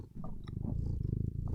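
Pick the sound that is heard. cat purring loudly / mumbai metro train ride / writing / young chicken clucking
cat purring loudly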